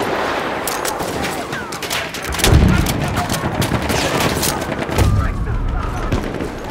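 Machine gun fire in the Battlefield 1 video game, continuous rattling bursts with heavy booming impacts around two and a half and five seconds, loud and close amid battlefield noise.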